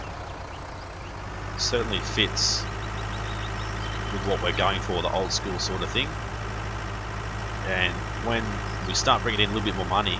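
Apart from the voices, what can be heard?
small old tractor engine in the video game Farming Simulator 19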